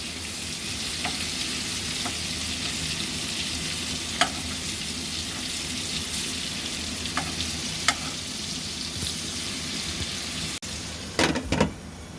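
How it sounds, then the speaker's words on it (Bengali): Prawns sizzle steadily in hot oil in a pan as they are fried for biryani, a continuous broadband crackle with occasional utensil clicks and a few sharper scrapes near the end. "এইদিকে আমাদের চিংড়ি মাছগুলোকে মামুনি উল্টিয়ে দিচ্ছে, যাতে এক পাশ মানে দুই পাশে ভালো করে ভাজা হয়"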